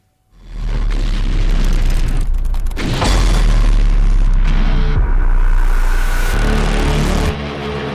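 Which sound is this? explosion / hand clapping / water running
explosion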